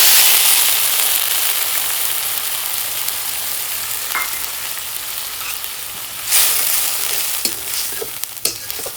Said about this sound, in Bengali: পেঁয়াজগুলো লাল লাল করে ভেজে নেওয়ার পরে মশলা দিয়ে কষাবো।